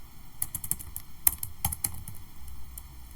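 Quiet keystrokes on a computer keyboard, a short irregular burst of taps with a few sharper clicks, close and alone with no talk.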